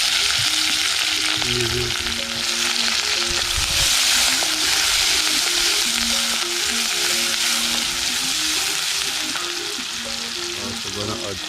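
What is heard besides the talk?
sautéing okra and chicken in a pan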